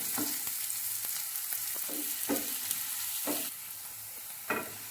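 Onion and green chillies fry in a pan with a steady hiss, while a spoon scrapes and taps at a regular pace. Close and fairly loud, with no one speaking.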